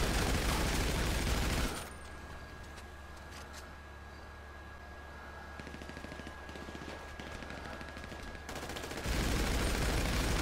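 Gunfire in GTA V Online rings out over a steady mechanical drone, with dense bursts of shots at the start and end framing a quieter stretch of faint, scattered firing in the middle.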